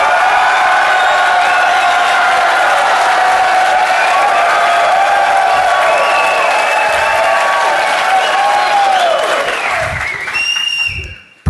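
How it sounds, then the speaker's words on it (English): A packed DEF CON 22 conference room audience screaming and clapping as loud as possible for about ten seconds, a dense sustained roar of applause, whoops and shrieks that cuts off abruptly at the end. "I want everybody to scream and clap for 10 seconds as loud as you possibly can"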